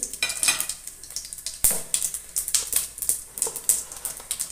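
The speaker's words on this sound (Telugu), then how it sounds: "ఇప్పుడైతే బగారా సామాన్ వేసేసుకుందాము." Whole spices for a chicken curry crackle and sizzle in a hot pan, with rapid close popping bursts, a sharp clink near the middle, and no voices.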